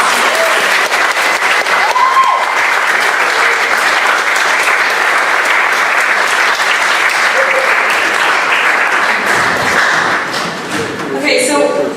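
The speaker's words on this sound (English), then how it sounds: "Can I get a round of applause?" An evening talk audience breaks into loud, sustained applause, many hands clapping steadily for about ten seconds before thinning out, with a few voices faintly mixed in.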